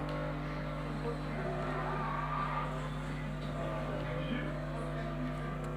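A Nissan GT-R races in Need for Speed, its engine a steady, loud drone with some tire noise throughout, and a voice speaks over it.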